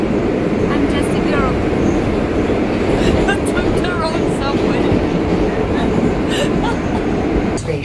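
A subway train in Russia rides along with a loud, constant roar and rumble, faint squeals and rattles on top, while people talk in the background.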